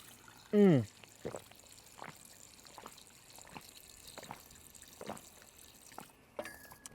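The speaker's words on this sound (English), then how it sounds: "I have found a water tub. So of course we gotta test the fresh water here." Fresh water pours from an outdoor water tub as a faint, steady trickle with scattered soft splashes, and a single loud squeak sounds near the start.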